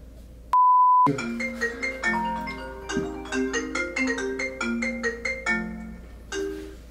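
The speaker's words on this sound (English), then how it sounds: "I received a phone call" A phone rings with an incoming call: a sharp beep opens, followed by a bright, repeating melodic ringtone that plays clearly and alone for several seconds.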